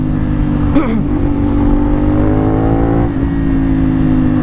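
A CF Moto 450SR motorcycle fitted with an Akrapovic exhaust, revving up sharply then holding a loud, close, droning engine note before a brief dip and another rise.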